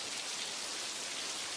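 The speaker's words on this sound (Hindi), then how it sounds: "इस साल बारिश कुछ ज्यादा ही हो रही थी।" Heavy rain pours down steadily in an even, hissing wash that stays constant and fairly soft throughout, with no voices.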